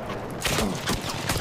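Rapid bursts of gunfire crackle in a noisy firefight, with repeated sharp broadband cracks over continuous background din.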